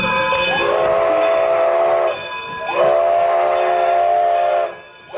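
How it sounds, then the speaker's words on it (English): A steam-powered railroad car's whistle sounds two long, loud, steady blasts close by, separated by a brief dip. "Steam-powered railroad cars,"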